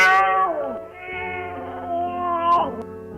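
A cat meows twice in drawn-out, wavering calls, clear and close, with a brief pause between them and no other sound around.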